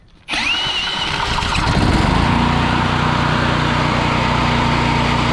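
A Generac Centurion generator engine with carburetor trouble cranks and catches, then roars steadily at a loud, close, even running drone.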